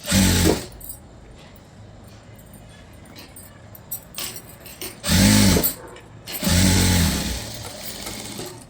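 A sewing machine runs in three short bursts while stitching a computer-work blouse, with quiet pauses between the runs.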